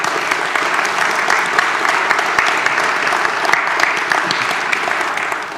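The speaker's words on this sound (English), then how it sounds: "could we give her a round of applause, by the way?" Church congregation applauding during a Sunday service, a steady, dense wash of many hands clapping that holds evenly throughout, loud and close with no pauses.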